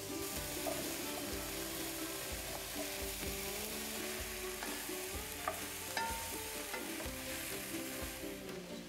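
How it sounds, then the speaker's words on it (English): A venison stew in a pot with browned bits sticking to the bottom is stirred, giving a steady sizzle with soft rhythmic scraping of the spoon, close and continuous with no talk. "So let me give this a stir."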